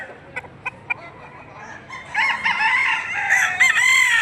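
A white gold fighting cock crows loudly and close by after a few sharp clucks, its long wavering call rising and stretching out to the end.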